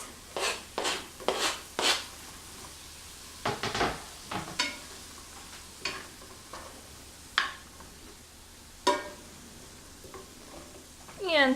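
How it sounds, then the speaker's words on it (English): Mushrooms and sugar snap peas stir-fried in a hot pan, with a series of irregular scraping strokes from stirring over a low sizzle, each stroke close and distinct. "So now I'm just going to add the rest of my vegetables here. All my mushrooms and my sugar snap peas."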